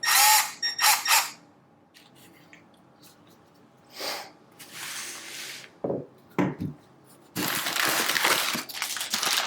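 A Milwaukee M12 cordless hammer drill whines in short bursts, starting and stopping several times, then runs continuously and loud near the end, with handling clatter in between.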